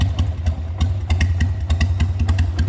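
A 2000 Harley-Davidson XL883 Sportster idles just after a choke start, its V-twin thumping in a steady loping rhythm with mechanical clatter, close and fairly loud with no talk.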